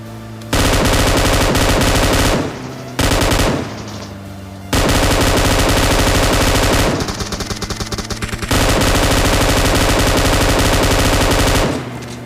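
An M249 machine gun in a first-person shooter game fires long, loud, sustained automatic bursts, close up, separated by brief pauses into several strings of rapid shots, with no talk over them.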